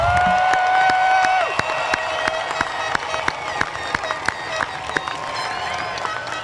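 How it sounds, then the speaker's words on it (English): Graduation ceremony audience gives a sustained round of applause, a broad wash of clapping with scattered louder claps and some cheering, continuing steadily throughout. "Let's give them one more round of applause."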